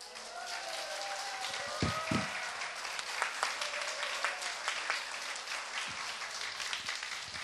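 A church congregation at a Sunday service claps together in response to a scripture reading, a dense, steady wash of applause filling the room with a few louder thumps standing out early on.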